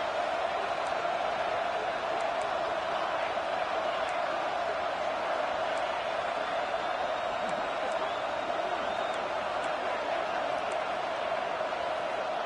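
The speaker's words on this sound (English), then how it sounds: "listen to this crowd noise. This stadium is vibrating." Steady roar of a packed stadium crowd at a college football game, a dense continuous wash of noise with faint scattered whoops, heard at a distance throughout.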